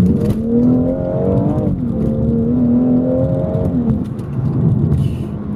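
A BMW M240i engine revs hard and climbs in pitch while overtaking traffic, dropping briefly with a gear change before pulling strongly again, loud and close throughout.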